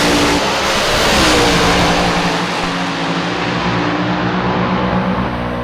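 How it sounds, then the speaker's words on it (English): A top fuel dragster roars down the strip in a drag race, a loud sustained engine blast that fades slightly as it pulls away. "What a phenomenal drag race"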